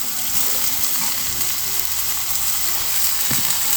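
Cumin seeds, chopped potato and chopped raw tomato hit hot oil in a pan, frying with a loud, steady sizzle and bubbling hiss that carries on throughout.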